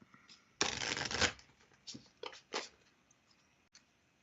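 Tarot cards being shuffled close up during a reading, with one dense riffling burst followed by a few shorter soft shuffles and taps, fairly quiet.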